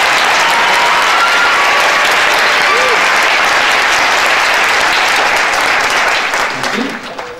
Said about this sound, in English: I would like a round of applause